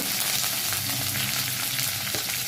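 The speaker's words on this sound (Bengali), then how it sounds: "কাটানো নুন দিয়ে পেঁয়াজগুলোকে খুব সুন্দরভাবে লাল লাল করে ভেজে নেব।" Chopped onions and tomatoes with salt frying in hot oil, a loud dense hiss and sizzle with light stirring scrapes, continuous and close.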